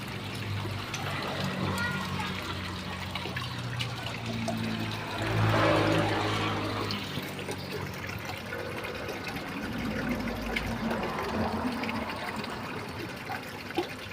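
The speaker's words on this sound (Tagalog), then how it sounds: "May tumalagas-las na tubig" Water trickles and splashes into a tilapia aquarium fed by an oxygen aerator, a steady bubbling wash that swells briefly midway, with a person talking over it.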